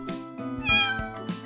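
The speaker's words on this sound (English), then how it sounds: "Cat." A cartoon-style cat meows clearly in a short, close burst within a children's animal alphabet song, with music playing underneath.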